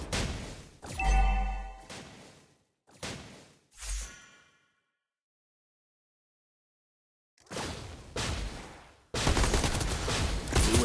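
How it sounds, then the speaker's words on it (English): Gunfire in a video game comes in several separate loud bursts with sharp attacks and decaying tails, then a long silent gap, followed by sustained dense rapid firing near the end. "Try to outrun my bullets."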